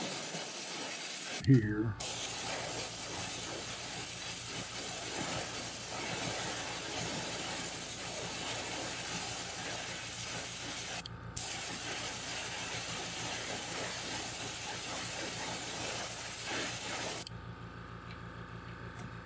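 Fluorescent yellow paint sprays onto a topwater fishing lure in one steady, close hiss that runs for about fifteen seconds with a brief break partway through.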